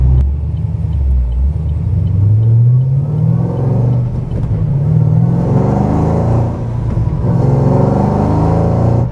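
A supercharged 2010 Chevrolet Camaro SS V8 pulls hard from inside the cabin, its loud engine note rumbling and rising steadily as the car accelerates, with no talk over it.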